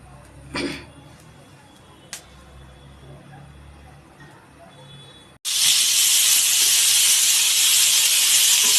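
Singhi fish dropped into hot mustard oil in a kadai burst into a loud, sustained sizzle after a few seconds of quiet with small knocks.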